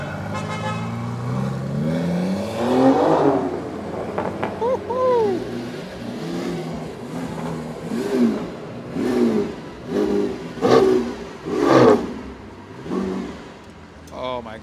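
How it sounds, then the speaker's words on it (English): A Lamborghini Aventador SVJ V12 revs in repeated sharp bursts on a London street, with people talking excitedly nearby. "you can never get enough of the V12 sound"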